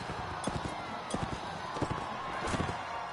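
Horses gallop in the Mount and Blade video game, a series of rhythmic hoof thuds moving steadily at moderate loudness over a dense game soundscape.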